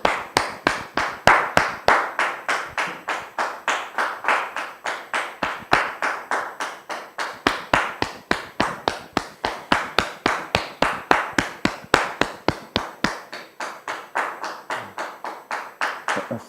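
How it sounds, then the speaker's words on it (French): Rhythmic clapping from an audience welcoming a guest at an event, steady evenly spaced claps in unison continuing throughout without a pause. "Je vous demande de la recevoir sous vos applaudissements"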